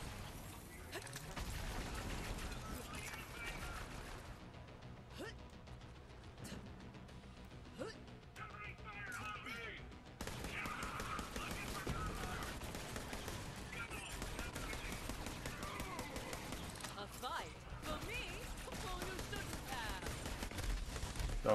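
Rapid bursts of gunfire from headshots in Borderlands 3, with sustained fusillades and machine-gun rattle at a fairly low level, continuing throughout with a brief dip in intensity.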